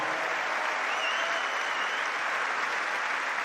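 Audience on Wimbledon's Centre Court applauding during a centenary celebration, a thick, continuous roar of clapping from a large crowd that stays even and loud throughout.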